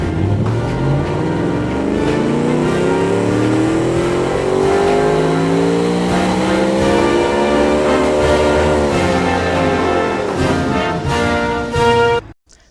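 A naturally aspirated single overhead cam V8 race engine revs in a long, steady climb through high RPM, loud and continuous, then cuts off abruptly at the end.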